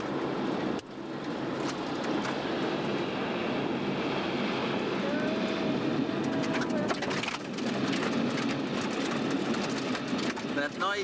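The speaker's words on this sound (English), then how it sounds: "That noise you hear is Gordon driving on the shoulder" Car tyres rumbling along a gravel road shoulder, a steady broadband roar with wind buffeting the microphone throughout, continuous and close.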